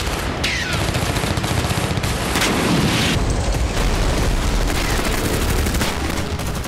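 Artillery and tank fire from the war in Ukraine comes as a dense barrage of booms and crackling gunfire, loud and continuous with sharper blasts breaking through.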